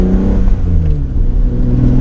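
A 1988 BMW iX all-wheel-drive car's 170-horsepower engine revs steadily and loud, a continuous mid-pitched drone that rises and falls slightly throughout.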